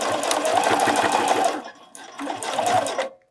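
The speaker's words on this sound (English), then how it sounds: "now sew along this top raw edge" A sewing machine runs in two steady bursts along the top raw edge of a bralette, its rapid needle chatter pausing briefly in the middle, close and clear with no talk.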